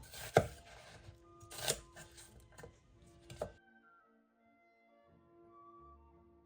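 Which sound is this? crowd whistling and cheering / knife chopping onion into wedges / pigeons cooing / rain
knife chopping onion into wedges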